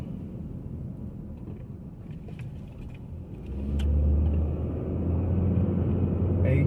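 A car rolls along a residential road and thumps over speed bumps. Steady low road rumble swells as the wheels go over a bump partway through, with faint clicks above.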